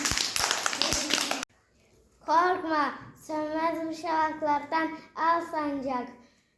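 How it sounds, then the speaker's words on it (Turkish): Classmates clap for a student in a classroom, a brief burst of scattered applause lasting about a second and a half before it stops abruptly, followed by a child reciting. "Alkışlar arkadaşınızın."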